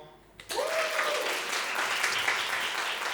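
After a short quiet lead-in, a roast-battle crowd breaks into loud sustained clapping for a comedian, a whistle rising above the steady applause.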